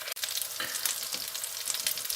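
Lentil patties frying slowly in a pan, giving a steady, close bubbling sizzle with crackles throughout, briefly dipping near the start and otherwise continuous.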